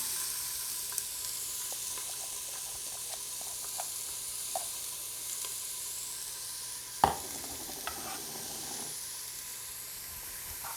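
Vegetables and ground beef sizzle in a frying pan for black bean chili, a steady soft hiss throughout with a few light clinks and one sharp knock midway.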